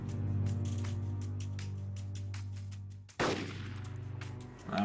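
Gunfire in the video game Hidden in Plain Sight: a sustained loud burst through the first three seconds, then a sharp, louder blast just after, with no talking over it.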